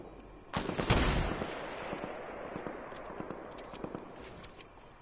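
Gunfire in the video game Fortnite: a loud shot around the first second decays into a rolling echo, followed by scattered quieter distant pops and cracks.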